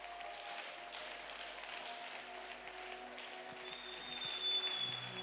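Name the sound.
congregation applauding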